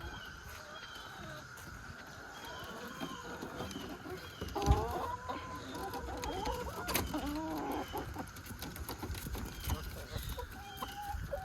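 Homestead chickens cluck and murmur close by in a quiet morning yard, with scattered short calls and a louder burst midway, nobody speaking.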